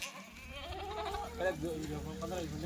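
Kathiawari goats in a herd give a wavering bleat close by while someone talks over the animals throughout.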